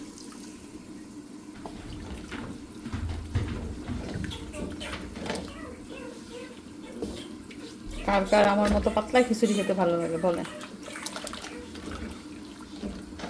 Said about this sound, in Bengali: এখন এর মধ্যে আমি দিয়ে দিচ্ছি গরম পানি